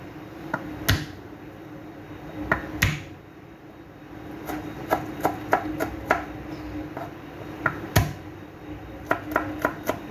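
Garlic chopped on a cutting board with a knife: sharp, close taps in irregular bursts, a few isolated strikes and then quicker clusters, over a quiet room background.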